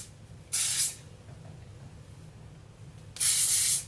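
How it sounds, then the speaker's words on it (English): Two short, forceful hisses from an aerosol can of heat protectant hair spray, close by, separated by a few seconds of quiet. "spray your hair with a heat protectant"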